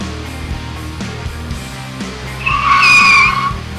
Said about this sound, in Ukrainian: Зараз ми проведемо простий тест-драйв докатки. Екстрене гальмування.